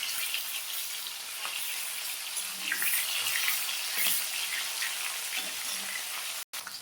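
Fresh snakehead fish sizzles steadily in hot oil in a pan, a loud, close, continuous frying hiss with occasional pops.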